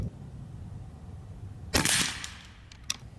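A Karma Airguns SLS Standard .22 PCP match-grade air rifle fires a single sharp, close crack, followed a second later by a faint metallic click, against a quiet background.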